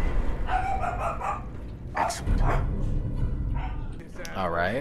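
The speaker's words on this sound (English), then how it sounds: "so you might hear a bark here and there" Dogs bark a few times in the background of an indoor room, short yips and woofs that sit under a person talking close to the mic.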